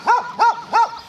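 A herding dog barks while working a flock of Oregon Mini geese: three loud, close barks come at an even, quick pace, one after another.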